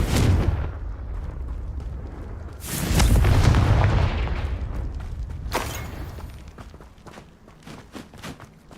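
A Confringo fire spell blasts in the video game Hogwarts Legacy, landing as heavy booming explosions with a big impact around three seconds in, rumbling decays and smaller hits after, no talk over them.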